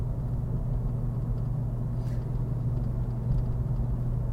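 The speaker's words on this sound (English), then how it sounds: "You can probably hear it on the podcast. That motor. That 1960s or 70s engine." A 1960s or 70s classic car engine rumbles steadily at a low, even pitch throughout, close and continuous with no talk over it.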